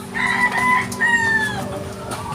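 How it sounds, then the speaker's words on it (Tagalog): Chickens at feeding time cluck and squawk close by, with a few rising calls layered over a faint steady hum, short and fairly loud. "magpapakain muna ako ng manok"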